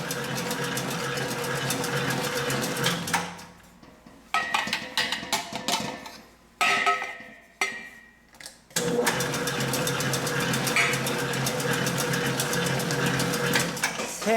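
A stand mixer whirs steadily while beating soft roll cake batter in a baking class, its motor hum broken by a few short pauses and dips before running continuously again; no talk is heard.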